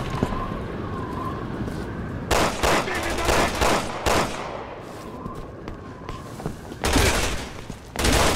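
Gunfire from a Resident Evil 6 firefight on the Chris Redfield and Piers Nivans campaign, with bursts of shots at irregular intervals over a steady game background drone.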